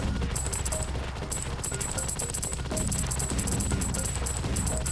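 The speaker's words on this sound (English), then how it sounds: "Machine gun is really good when the enemies are weak." Sustained rapid machine gun fire from a mech in the video game Project Lazarus, a dense continuous stream of shots with bursts of impacts layered over game sound, loud and unbroken.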